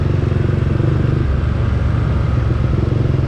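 A Yamaha Sniper Classic 135 motorcycle fitted with a Replica Pro standard-type black exhaust runs close and loud, a steady throbbing engine note with a rapid low pulse and no talk.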